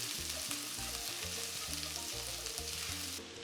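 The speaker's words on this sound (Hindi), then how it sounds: "इसको टॉस कर लेंगे 1 मिनट के लिए, ताकि इसका कच्चापन निकल जाए और थोड़ी सी फ्राई हो जाए" Ginger frying and being tossed in a pan for about a minute. The sizzle is close and steady, with rhythmic scraping and tossing strokes and no talk.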